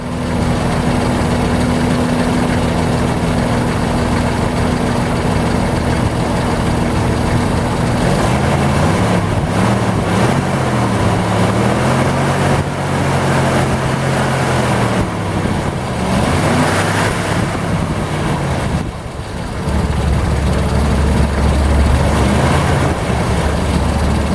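A Jeep Wrangler engine with new spark plugs and wires idles steadily at close range, its low rumble shifting in pitch as it revs up and down a few times before settling back.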